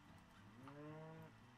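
A single cow in the video game Rimworld lets out one drawn-out moo that rises and then holds, quiet and isolated.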